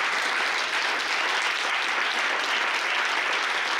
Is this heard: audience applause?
yes